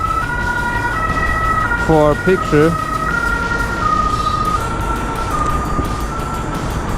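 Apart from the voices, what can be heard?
police car siren passing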